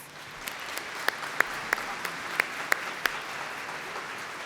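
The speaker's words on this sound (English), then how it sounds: "Let's give them another round of applause, please." Scattered, distant applause from a college commencement audience at Central Lakes College in Brainerd, a soft steady patter with a few sharper individual claps standing out.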